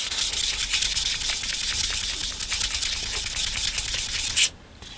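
2500 grit sandpaper rasps over straight razor scales in steady, rapid back-and-forth strokes, a close, bright scratching that stops abruptly near the end.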